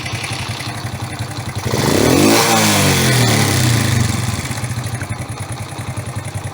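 A Delta moped engine, started by hand, runs with a rattly idle, then revs up loudly for about two seconds and falls back to a steady idle, close by with no talk.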